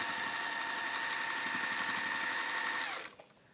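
A sewing machine stitching a seam on a waxed base drawstring caddy runs at a steady, fast whir close by, then slows and stops near the end, with no voices.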